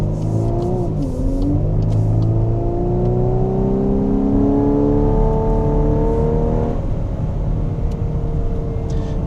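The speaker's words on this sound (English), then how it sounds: "it is a hilarious little synthetic noise. They really try to make it sound like you're driving, you know, an old, like one of those nice V6s" A 2024-2025 Volkswagen Atlas SE accelerating, its synthetic V6-style engine note rising steadily in pitch as the gear is held, with a dip and recovery partway, loud and continuous from inside the cabin.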